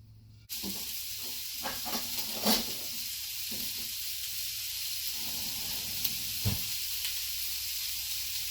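Stuffed bitter gourds sizzle steadily as they fry in a pan, a continuous close hiss with a few louder spatters and stirring bursts, no talking over it.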